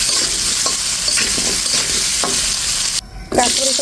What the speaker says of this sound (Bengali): এটা দিয়ে একটু ভেজে নেব